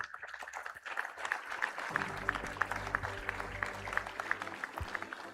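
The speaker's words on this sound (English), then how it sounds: "Let's give them a huge round of applause." Steady applause from a large crowd at a university convocation ceremony, dense clapping sustained throughout, with a low rumble of the hall underneath.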